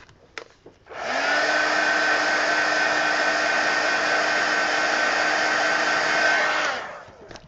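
A hair dryer blows steadily on a drawing in progress for about six seconds, switching on with a rising whine and cutting off at the end, loud and close, with a few faint clicks before it starts.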